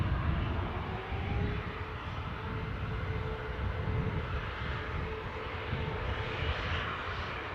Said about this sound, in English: Well, the Alicante flight is now moving.